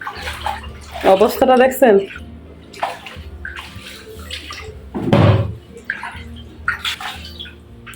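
Water runs from a tap left on in a small garden, a steady splashing flow that continues while a person speaks over it in short bursts.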